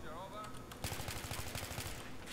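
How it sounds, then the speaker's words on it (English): Rapid automatic gunfire in a Counter-Strike match, a dense burst of shots crackling for over a second under a game soundscape, fairly quiet overall. "I'm getting shot from something."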